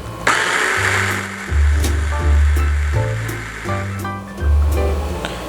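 A food processor pulses a cooked vegetable filling for spring rolls in loud, short motor bursts, about five pulses with brief pauses, close and continuous in rhythm.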